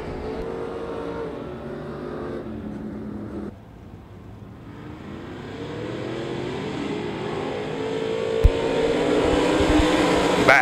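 Race cars circling the dirt oval at Devil's Bowl Speedway during a heat race, engines droning and swelling from a distance with a steady roar that builds louder toward the end, no voices.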